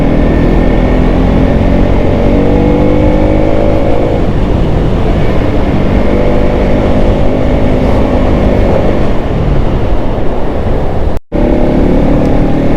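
A Bajaj Pulsar NS200 motorcycle rides along a road on a morning ride near Guwahati, its engine droning loud and steady with wind rush throughout, and a brief dropout near the end.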